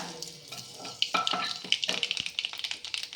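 Mustard and fenugreek seeds hit hot oil for a tempering, a burst of crackling sizzle that builds into rapid, close popping spatters.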